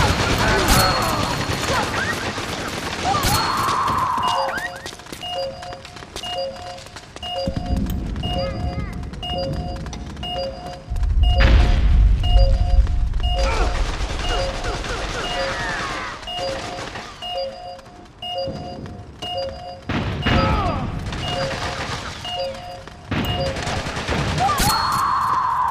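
Gunfire in the online shooter Metal Gear Online: bursts of rapid automatic fire and scattered single shots with occasional crashes, loud and close, with game sound effects and people talking over headsets throughout.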